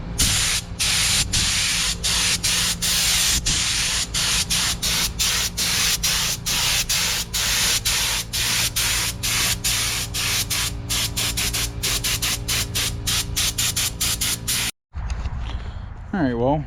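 A spray gun hisses in rapid bursts as coats of paint go onto a vehicle frame, loud and close, ending with a short pause and brief talk.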